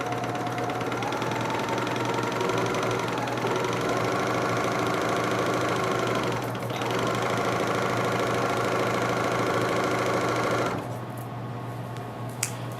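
A serger sewing machine trims quilt fabric in a steady, continuous whirring hum, running close and even for about ten seconds before stopping.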